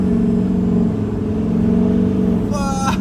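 A Duramax diesel truck pulls hard at full throttle with a loud, steady engine drone from inside the cab, and a brief higher whine near the end.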